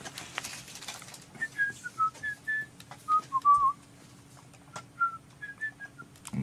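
Someone whistles a short melody in clear, separate phrases with small pauses, close and fairly quiet.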